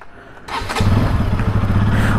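A motorcycle engine starts up after a thud, then settles into a loud, steady idle with low rumbling, close by and without speech.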